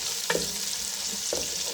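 Onions turning golden with ginger garlic paste, fried in a pot, give a steady low sizzle with two brief scraping stirs, close and moderately quiet, no voices.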